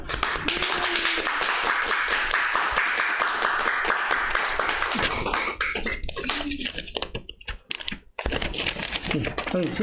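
Congregation applauding to welcome a church elder to the front: a dense, brisk patter of many hands for about five seconds, then thinning into scattered claps and shuffling noise.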